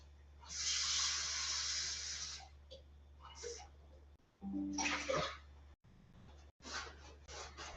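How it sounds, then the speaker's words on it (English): Water pours into the base of a pot for cooking basmati rice, a hissing splash for about two seconds, then more short bursts of pouring and splashing close by. "I'm going to put in about 1 3 cups, 1 3/4 cups of water in the base of here."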